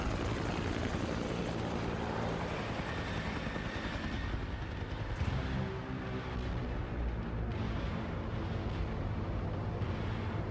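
Helicopter rotor blades thump and roar steadily throughout, a loud continuous aerial drone over a rise looking into Mexico near El Paso in the film Sicario, with no voices.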